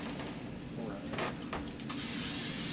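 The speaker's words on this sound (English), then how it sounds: "Butter spray." A short burst of butter cooking spray hisses close by, followed by a longer steady spray toward the end, with faint background noise.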